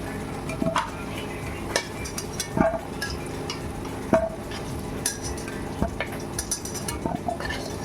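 Fried potatoes lifted from a pan of oil, a soft sizzle underneath repeated clinks and scrapes of a utensil against the pan at irregular intervals.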